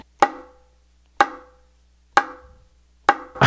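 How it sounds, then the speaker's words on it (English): Four crisp, dry muted slaps on a bongo, struck near the edge with the index finger, evenly spaced about a second apart, each sharp and quickly choked, with silence between. "the way the muted slap sounds on the bongo drums"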